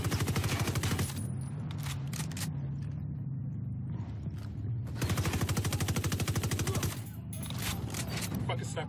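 Heavy automatic gunfire in the video game Ghost Recon Wildlands rattles out in long, loud bursts of rapid shots, broken by a quieter gap before another sustained volley near the end.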